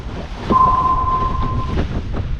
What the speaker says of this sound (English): the wind's just kicked in